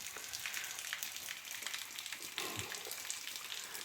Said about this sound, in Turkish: Sağanak halinde devam ediyor.